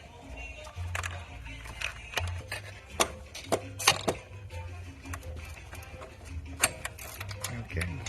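A wrench works loose the starter bolts on an Infiniti QX56, giving scattered sharp metallic clicks and knocks over a low, muffled background rumble.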